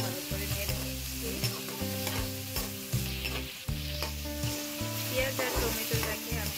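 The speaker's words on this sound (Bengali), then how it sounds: "আমি এখন সবকিছু ভালো করে নেড়ে নিচ্ছি।" Onion, chili and a tomato stir-fried in hot oil in a Bengali-style kitchen, with a steady loud sizzle under the repeated scrape and clatter of a spatula in the pan, and no talking.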